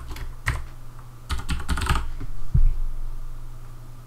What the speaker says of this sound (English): and then we type in our tag.